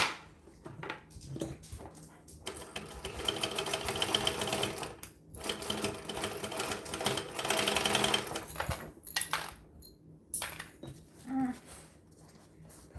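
Sewing machine stitching across a bag gusset, heard in a few short bursts of fast mechanical whirring, close and fairly loud, broken by pauses and light handling noise.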